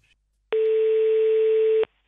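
A single continuous telephone ringback tone heard while placing an outgoing call, steady and fairly loud for just over a second, with silence on either side.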